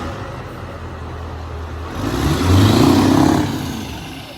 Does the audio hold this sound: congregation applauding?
no